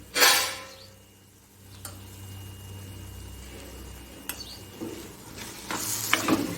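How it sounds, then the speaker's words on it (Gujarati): Desi-style baingan bharta mixture is stirred in a pan, with soft scraping strokes and a low sizzle, a sharper clatter at the start and a few light knocks of the spoon against the pan. "સરખી રીતે મિક્સ કરશું"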